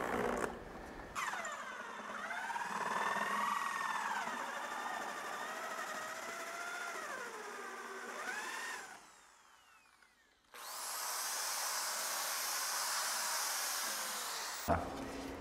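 A drill bores into a 1 cm drywall ceiling board with a steady whining motor that slows and varies, then stops before a second bright, hissing run of drilling; fairly quiet, with no speech.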